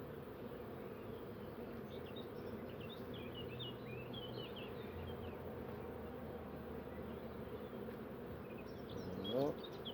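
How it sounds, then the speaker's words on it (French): Honey bees at a beehive hum in a dense, steady, continuous buzz with no pauses, a soft background drone throughout. "Les abeilles."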